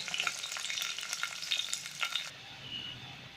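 Green chillies and onions with curry leaves frying in oil in a pan while being stirred, a busy bright sizzle with spatula scrapes that quiets abruptly near the end to a softer hiss.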